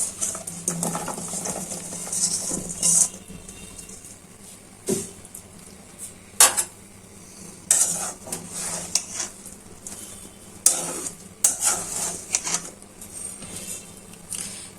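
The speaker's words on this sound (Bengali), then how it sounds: "এখন দিয়ে দিচ্ছি চিচিঙ্গা গুলো" Snake gourd pieces tipped into a pan of shrimp curry and stirred, with intermittent scraping and clinking of a spoon against the metal pan in short bursts over a quiet background.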